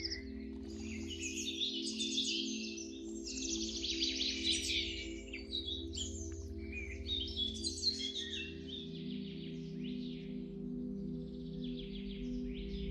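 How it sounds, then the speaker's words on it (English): Several birds chirp and sing in bright, overlapping bursts of trills and tweets at Lake Moraine, moderately close, over a steady low hum in the background. "Each bird knows its own language, uses its own sound waves."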